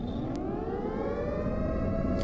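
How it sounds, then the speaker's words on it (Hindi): A steady, droning air raid siren wails continuously at a distance in a Ukrainian city during the war, its pitch holding level and then slowly rising, with no voices. "यूक्रेन के कई शहरों में हवाई हमले का सायरन भी बज रहा है"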